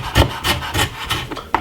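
A knife cuts through a piece of ginger on a board, several dry scraping strokes close up, ending with a sharp tap.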